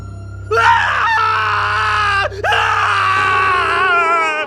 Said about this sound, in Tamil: அரண்மனைக்குள்ள இருந்து ஒரே அலறல் சத்தம்